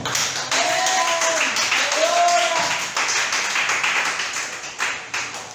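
A church congregation claps and cheers together, steady applause under loud overlapping voices and shouts, fairly close and sustained.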